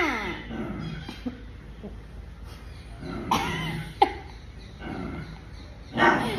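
A dog barks a few times in sharp, separate yaps spaced through the clip, close and fairly loud over a quiet indoor background.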